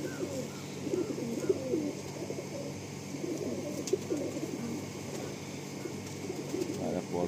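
Tiger line pigeons coo in repeated soft, throaty phrases over several seconds, close and steady, with a faint background hum and a couple of small clicks.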